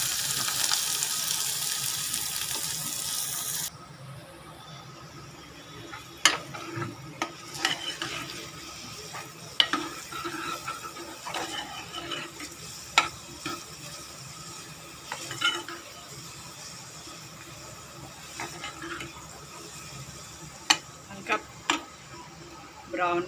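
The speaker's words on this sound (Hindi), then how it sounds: "ब्राउन रंग का करेंगे प्याज।" Onions fry with garlic and cumin in a pan, a low continuous sizzle broken by intermittent clicks and scrapes of a stirring utensil, quiet throughout.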